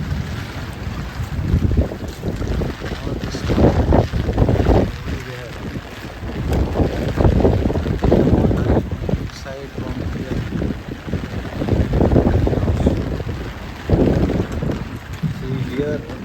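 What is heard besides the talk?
typhoon wind and storm in Mobara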